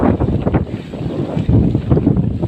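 Strong amihan monsoon wind gusts across an open coastal setting, roaring and buffeting the microphone in continuous surges that swell and ease, with a low rumble of sea and boat noise beneath and no speech.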